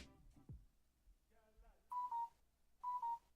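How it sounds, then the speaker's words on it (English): Business telephone ringing with an electronic trill: two short bursts of warbling tone a second apart, moderately loud over a quiet room, preceded by brief low sounds. "Business phone just rang."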